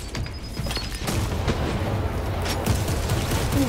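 A grenade goes off in Warhammer Space Marine 2 amid dense battle noise: a low rumbling boom and scattered gunfire crackle run continuously through the clip.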